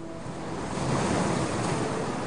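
Sea waves wash against the lower tier of a seaside palace terrace that opens straight onto the water, a steady, broad surf roar with some wind noise and no talk.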